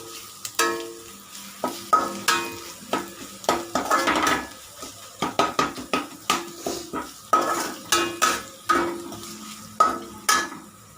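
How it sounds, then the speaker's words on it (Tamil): Ginger garlic paste and onions being sautéed in a pan for chicken chukka, with a spoon repeatedly scraping and clanking against the metal pan over a soft sizzle, close and rhythmic. "இஞ்சி பூண்டு போட்டு அந்த பச்சை வாடை போகிற வரைக்கும் அதையும் நல்லா சேர்த்து வதக்கிக்கலாம்"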